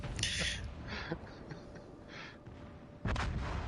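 Naval guns fire in World of Warships: Legends, heavy booming shots near and far at irregular intervals, with a sharp loud blast near the end over a low rumbling background.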